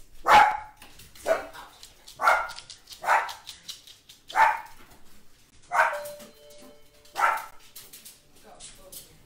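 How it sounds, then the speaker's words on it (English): Small dogs bark in repeated bursts, about seven sharp barks spaced roughly a second apart, loud and close in an indoor setting, with a faint whine between some of them. "They don't realize that they're little dogs."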